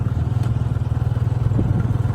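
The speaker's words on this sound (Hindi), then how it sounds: "वो मोटरसाइकिल आ गया पीछे" A motorcycle rides along behind a horse on a rural road near the Indian border, its engine giving a steady, pulsing low rumble at moderate distance throughout, with no voices over it.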